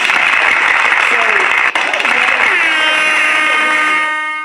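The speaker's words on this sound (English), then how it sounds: "Give me a hand clap" Podcast audience clapping, a dense, steady wash of applause that holds for about four seconds before tapering off, with a voice talking over it.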